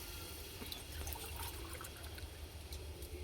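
Water is poured glass by glass into a pot for chicken biryani cooked over an outdoor fire, a faint, steady trickling splash under low background rumble.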